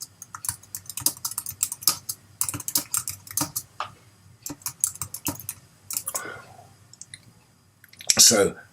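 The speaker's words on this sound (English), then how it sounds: "I'm just typing a message to further narrow down the help I can offer." Bursts of rapid clicking keystrokes on a computer keyboard, typed in uneven runs with short pauses, close by and fairly loud.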